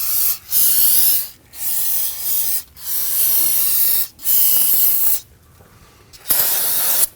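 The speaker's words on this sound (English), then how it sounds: "go ahead and spray it down with some spray solvent" Solvent spray hissing onto the brake line of a 2009–2017 Volvo XC60 during a rear brake hose job: five loud, close aerosol bursts of about a second each, separated by brief pauses, with a faint quiet stretch near the end.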